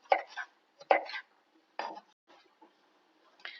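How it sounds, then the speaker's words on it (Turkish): A knife chops red peppers on a cutting board in a few sharp, sparse strokes, close and fairly quiet, with short silences between them. "kapya biberlerimizi aynı şekilde, aynı hemen hemen hepsini yakın iriliklerde doğruyoruz"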